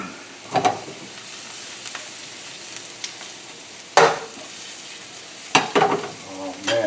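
Garlic hits hot butter and olive oil in a pan and crackles in sizzling bursts. Louder spits and stirring flare up over a quieter steady fry.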